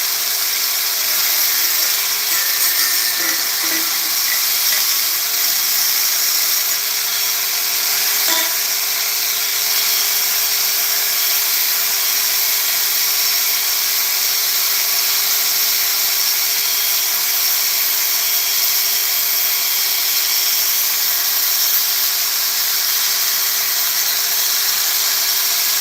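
A power tool polishes a surface with a steady, loud high-pitched whir that runs unbroken throughout, with a faint constant tone beneath and no talking.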